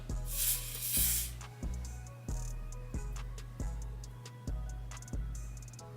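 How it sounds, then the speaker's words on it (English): Several short, sharp hair spray bursts hiss at a steady pace over a constant low hum, with a longer, louder spray near the start. "I'm just gonna spray a little bit of my little spray"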